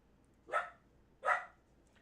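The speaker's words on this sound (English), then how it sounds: "What you barking at, baby girl?" Two sharp dog barks about a second apart, fairly close, with quiet pauses between.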